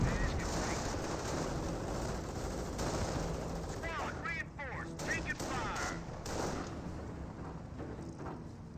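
Gunfire from a light anti-tank half-track and infantry rifles in a Company of Heroes battle, rapid shots and bursts under a cluttered battle din, with a voice talking partway through.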